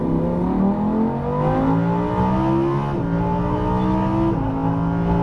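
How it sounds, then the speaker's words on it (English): Lamborghini Huracan V10 engine at full throttle on a race track, a loud steady roar with rising harmonics that climb through the gears, briefly dipping at each upshift before surging again. "Full throttle."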